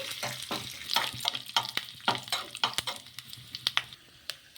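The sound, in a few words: curry leaves frying and being stirred in a pan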